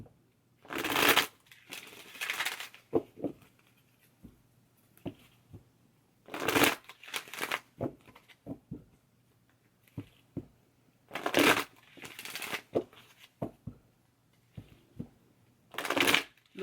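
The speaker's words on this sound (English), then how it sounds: "Let's pull you an angel card" An angel card deck is shuffled in repeated bursts of riffling and card slaps, close and fairly quiet, with short pauses between rounds and no talk.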